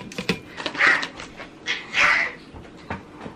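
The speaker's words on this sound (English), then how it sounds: "My dogs are fighting." Dogs yelp and whimper in sharp, high cries during a brief scuffle, two louder squeals standing out close by.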